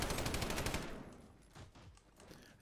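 PKM machine gun in Modern Warfare fires a loud, rapid sustained burst for nearly a second, then trails off into scattered quieter shots and distant gunfire.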